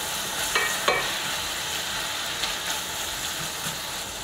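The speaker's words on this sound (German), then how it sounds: "Ich brate nun meine Paprika gut an." Bell peppers fry with a steady, bright sizzle in a pan for a breakfast of tomatoes, onions and sucuk, with a few scraping stirs of a utensil standing out near the start.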